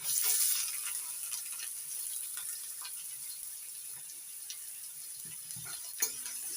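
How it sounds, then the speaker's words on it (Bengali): Chopped onion fries in a pan with ginger and garlic, a soft, steady sizzle with faint stirring and one small clink near the end. "এবার দিয়ে দিচ্ছি পেঁয়াজ কুচি"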